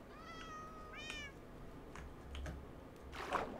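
A cat meows twice in quick succession in the Minecraft video game, faint and thin, followed by soft keyboard clicks and a faint rustle.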